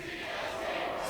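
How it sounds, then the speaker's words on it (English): Crowd of fans at a League of Legends esports match roaring and cheering for Coast, a dense, sustained wall of voices filling the arena without a break. "They really need to hear you guys cheering for them"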